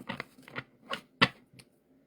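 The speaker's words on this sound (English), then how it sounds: "Let me shuffle these really quick." Tarot cards being shuffled by hand, heard as a few short, crisp riffling bursts and taps with brief pauses between them, close and fairly quiet.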